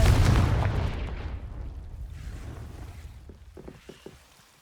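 A Confringo fire spell explodes in Hogwarts Legacy, a loud booming blast that rolls and fades over a few seconds, with small crackling bursts trailing near the end.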